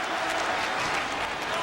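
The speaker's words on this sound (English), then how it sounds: "Rico clapping off for Funaki." Wrestling crowd applauding during a WWE Velocity match in 2002 as Rico claps for Funaki, dense steady clapping filling the arena, with commentators talking over it.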